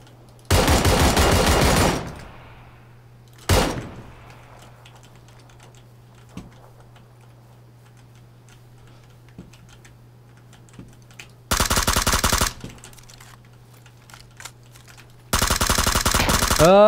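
Rapid automatic bursts from an unsuppressed QBU rifle in PUBG, loud full-spectrum fire in three or four separate volleys with a single sharp shot between and quiet gaps, over a low steady game hum.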